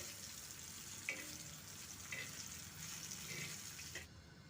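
Chutney ingredients fry in oil in a pan, giving a soft continuous sizzle with a few scraping stirs, faint and close, with no talking.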